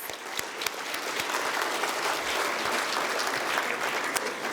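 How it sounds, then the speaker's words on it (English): Audience applause fills a gala hall, a dense, steady clapping from a sizable crowd that holds at full strength throughout, with sharp individual claps standing out near the front and no talking over it. "I think that deserves a round of applause."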